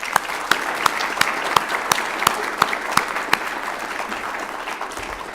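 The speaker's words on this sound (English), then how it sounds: "If we could give them one more round of applause." An audience at the NCAR Mesa Lab rededication ceremony applauds the evening's speakers. The clapping is steady and moderate in volume, with a few sharp individual claps standing out near the front, and it thins out toward the end.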